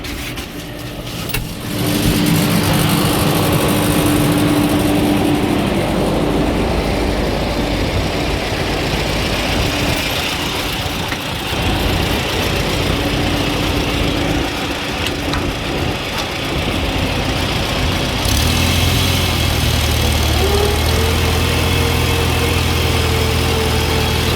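A Farmall tractor engine warms up at half throttle, a loud, continuous rumbling idle close by that holds steady throughout, with a slight shift in tone near the end.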